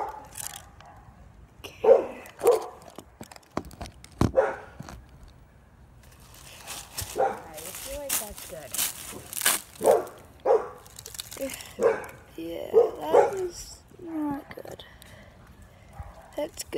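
A puppy barks repeatedly outdoors in a yard where leaves are being raked, its short yips and barks coming in uneven bursts, mixed with people talking nearby.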